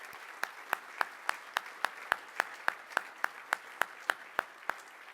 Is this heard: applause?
yes